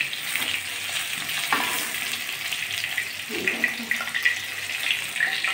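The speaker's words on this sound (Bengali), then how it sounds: "এক খোলা ভেজে তুলে নিয়েছি, আর এক খোলা ভেজে নেব।" Tilapia fish pieces frying in oil, a bright, continuous crackling sizzle with small spattering pops and a brief clatter partway through.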